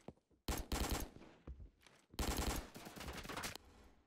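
Assault rifle gunfire in a Roblox take on Rainbow Six Siege, arriving as two loud, close automatic bursts, each about a second long and separated by a short lull, with faint scattered shots in between.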